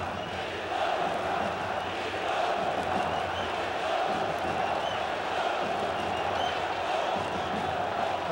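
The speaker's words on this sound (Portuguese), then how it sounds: "A torcida tá gritando agora o nome do Luiz Felipe Scolari" A large stadium crowd at a Brazil versus Argentina football match chants a coach's name in a dense, continuous roar that holds steady throughout, with a commentator's voice faintly mixed underneath.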